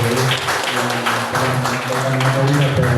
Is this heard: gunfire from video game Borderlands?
no